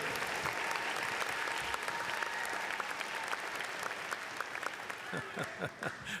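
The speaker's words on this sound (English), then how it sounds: "Now turn and give these folks a round of applause" A commencement crowd at Auburn University claps steadily for families and friends, a dense, even wash of applause that holds for several seconds and thins slightly near the end, with no voices over it.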